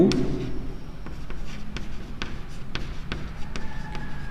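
Pen scratching across paper in short repeated strokes, close and fairly quiet, with light tapping and paper rustle; no talking.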